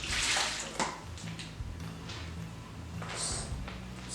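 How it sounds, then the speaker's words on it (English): Soaking water being poured off fermented corn flour for pap, with uneven splashing gushes, a few dull thuds of the container, and trickling between pours, all close up. "strain a bit of that water out and replace it with fresh water"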